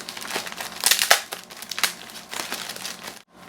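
A tightly glued mystery box envelope being torn open, with close crinkling paper rips and rustles in uneven bursts before a sudden stop.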